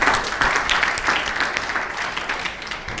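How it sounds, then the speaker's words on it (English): Loud, dense applause from a seminar audience of realtors honoring veterans and service members, a close, continuous burst of clapping that gradually eases off over a few seconds. "let's give them a round of applause"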